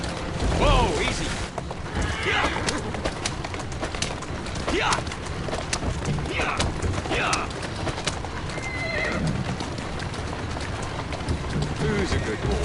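Horse in the Assassin's Creed Syndicate game, with steady clip-clop hoofbeats and an occasional whinny over a busy street ambience of birds and background noise, with a voice talking to the horse throughout.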